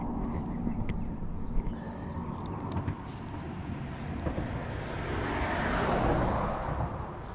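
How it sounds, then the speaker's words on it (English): A car drives past near the upper Brisbane River after a flood, its broadband road noise swelling gradually and peaking late as it passes, over outdoor ambience with a few small clicks. "Fourth car just went past."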